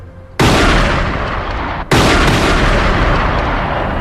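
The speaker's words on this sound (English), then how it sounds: "Outside, the police hear gunshots." Two loud, close gunshots ring out during the Iranian Embassy siege, the first near the start and a second about a second and a half later, each a sharp blast followed by a long, sustained roaring decay.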